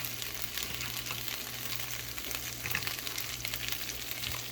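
Almonds with salt and pepper sizzle steadily in a pan over medium-high heat while being stirred, a continuous close frying hiss with small crackles and no voices.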